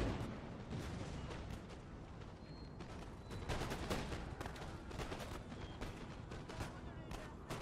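Rolling musket volleys crackle in the Empire: Total War video game, dense bursts of gunfire layered over a constant battlefield roar, fairly faint and continuous.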